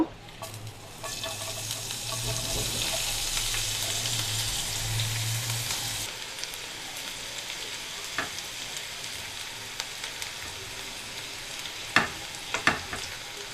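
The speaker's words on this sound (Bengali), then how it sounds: "সেই পেঁয়াজগুলো আমি একটু বেরেস্তার মতো করে ভেজে নেব" Sliced onions fry in hot oil in a kadai for crispy birista, a dense steady sizzle for several seconds that then drops to a quieter crackle with occasional stirring clicks.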